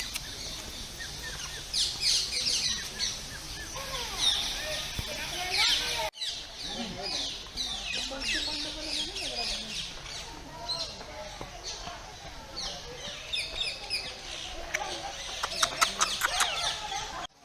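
Many birds call and chirp together inside the walk-through aviary at Casela Bird Park, a busy mix of close and distant calls with some clucking fowl, heard continuously beneath a person talking.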